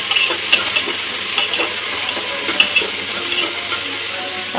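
Chopped tomatoes sautéing in a pan for vegetable rice, with a continuous close sizzle and repeated scraping strokes of a spoon.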